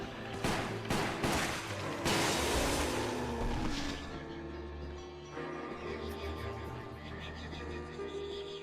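A hand cannon fires in the Resident Evil 0 video game, with heavy booming blasts early on that give way to a long, loud rumbling tail and echoing game ambience.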